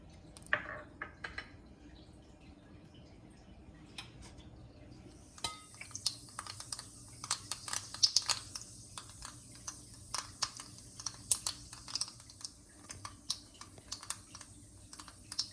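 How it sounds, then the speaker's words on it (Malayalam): Mustard seeds pop in hot oil for a paniyaram tempering, with sparse quiet crackles at first, then a denser run of sharp clicks and spits that carries on steadily. "കടുക് പൊട്ടിയതിനു ശേഷം നമുക്ക്"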